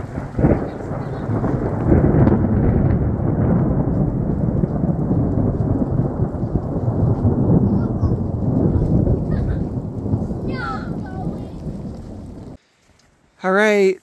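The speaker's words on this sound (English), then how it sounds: "Unfortunately, it rained for most of the time we were there." Heavy rain pours steadily at a tent campsite with thunder rumbling through it, loud and continuous before cutting off abruptly near the end.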